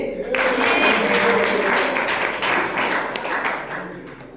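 An audience claps together at a school NSS seven-day camp gathering, a dense, steady wash of applause that carries on loud for several seconds and thins slightly toward the end, with voices faintly mixed in.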